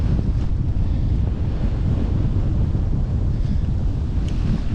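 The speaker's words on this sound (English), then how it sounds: "still fighting a headwind." Steady roaring headwind buffeting a cyclist's microphone on a Savannah greenway, a constant loud low rumble with no pauses.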